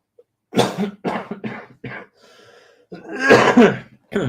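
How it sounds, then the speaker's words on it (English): A person coughs in a rapid series of harsh bursts, pauses briefly, then gives a longer, heavier coughing fit close to the microphone. "Sorry if I keep coughing like I said earlier"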